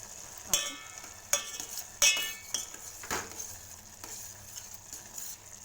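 A spoon stirs masala with chili powder in a cooking pot, giving a soft ongoing sizzle broken by several sharp metallic clinks and scrapes of utensil against the pot at an uneven pace, close and quiet, with no voices.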